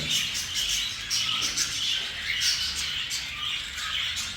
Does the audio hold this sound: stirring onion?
no